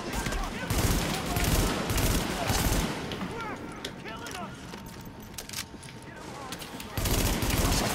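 Sustained automatic gunfire in the video game The Division, loud bursts filling most of the stretch with a brief easing in the middle, while someone talks over the shooting.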